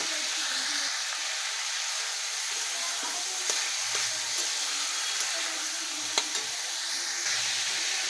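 Potato, carrot and beans fry in a pan with a steady, close hiss and sizzle, broken by a few faint stirring clicks and scrapes.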